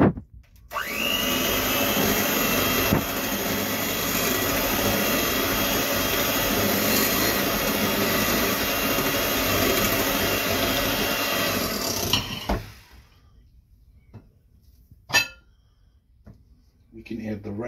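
An electric mixer beats mascarpone for tiramisu with a loud, steady whirring drone that runs about twelve seconds and then cuts off. Quiet handling noises and a single sharp knock follow.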